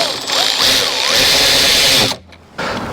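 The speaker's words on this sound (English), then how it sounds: "This is definitely my favorite of my ratchets. It's not as high torque as the other one, but it definitely does a good job and it's fast." A fast power ratchet whirs steadily while tightening bolts on a Jeep Gladiator's AEV snorkel, a close, loud high-pitched buzz lasting about two seconds before cutting off, then a brief quieter burst.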